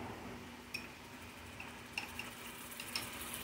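Ginger paste hits a pan of frying chicken, giving a soft, continuous sizzle with a few light utensil clinks scattered through, no talking.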